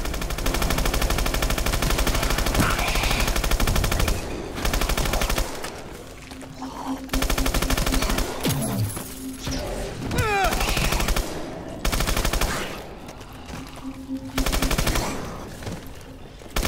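Heavy automatic gunfire rattles through the Call of Duty Exo Zombies game in loud, sustained bursts with brief pauses, mixed with game effects and a voice speaking briefly.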